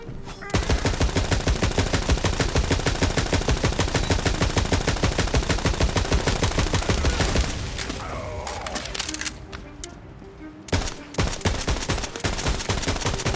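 Rapid, dense gunfire rattles from a gun in the video game Tiny Tina's Wonderlands in a long loud stream, breaks off into scattered game effects, then resumes in further bursts.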